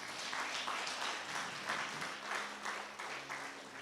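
A church congregation applauds in fairly quiet, steady rhythmic clapping from many hands, sounding somewhat distant and continuous throughout.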